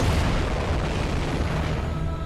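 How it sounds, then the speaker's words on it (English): A heavy boom from an explosion in the video game Nine Sols, loud at the start and then fading into a rumbling, crackling tail over a couple of seconds. "Explosion."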